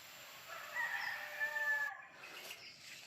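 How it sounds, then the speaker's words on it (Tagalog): A wild rooster crows once in the mountains, a long wavering call over a soft steady background, then fades into quiet outdoor ambience. "Maraming manok dito na yung ihalas yata. Yung wild na wild chicken."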